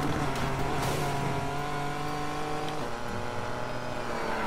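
Aston Martin race car engine in Need for Speed Payback, a steady loud drone with sustained harmonic tones that shift pitch as the car accelerates, filling the whole stretch without a break.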